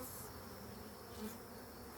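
Honey bees drone steadily around an open hive during an inspection, a faint continuous buzz with no other sound standing out.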